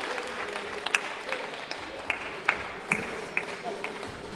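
Scattered hand claps and light applause from a crowd at a Women's Day felicitation of women police officers held by the Thane traffic branch, with irregular sharp claps over a low murmur of room noise.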